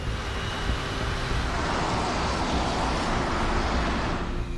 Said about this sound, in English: The flight data recorder reveals that he opens the throttle.